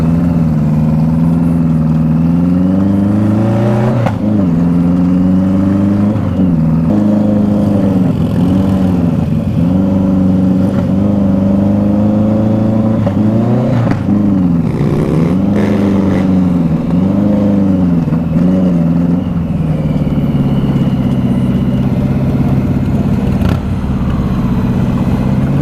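A 1986 BMW K100 motorcycle engine runs continuously and loudly close by, its steady mid-pitched drone rising and falling through several revs before settling into a smoother hum; the bike is running poorly on the ride home from a show.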